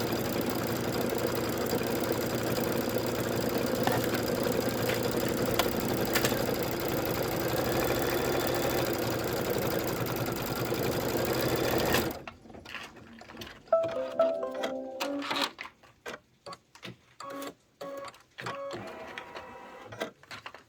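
Embroidery sewing machine stitching yellow thread over Mylar for a street lamp design on a bench pillow, first a steady loud mechanical whir, then after a sudden stop a series of sparse, irregular clicks and short taps.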